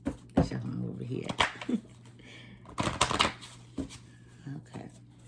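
Affirmation cards are shuffled by hand in a few soft, brisk bursts of papery riffling and tapping, quiet and close, with a low steady hum underneath.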